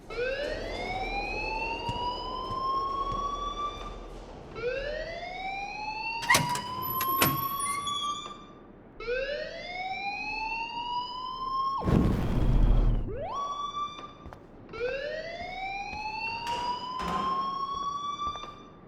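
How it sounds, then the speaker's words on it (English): Alarm in the video game Life is Strange wails in repeated rising electronic sweeps, loud and steady, cycling about every four seconds, broken by a couple of sharp clanks and a burst of noise. "please turn off that alarm"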